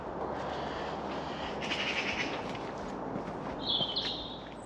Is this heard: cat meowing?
no